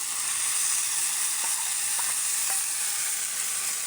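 Ground spice paste fries with Belgian duck meat in a pan, village-style cooking: a steady, even sizzle fills the whole stretch, with a few soft scrapes of stirring partway through and no talking.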